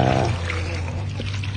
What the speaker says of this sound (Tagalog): Yan, and then lagyan na lang natin ng tubig.